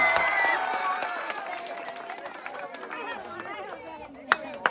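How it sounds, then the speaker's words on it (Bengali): Crowd clapping and cheering mixed with lively chatter at a village game contest, strongest at the start and gradually easing off, with a couple of sharp knocks near the end. "সবাই আরো একটা জোরে তালি হবে ভাইয়ের জন্য"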